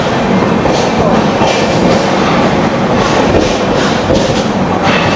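Konark Express (train 11019) pulling out of platform 7 at Vijayawada, with a steady close rumble of rolling wagons and rhythmic clickety-clack from the wheels running continuously throughout.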